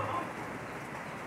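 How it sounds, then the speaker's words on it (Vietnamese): Steady heavy rain splashing onto a phone, a dense even hiss of drops close to the microphone, continuous for the whole stretch with no voices. "trời mưa quá nó tạt vô cái điện thoại"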